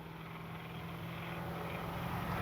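Small Freewing Banshee RC jet flying overhead: a steady, even electric-fan whine and whoosh that holds for the whole stretch, distant to mid-range, with no talk.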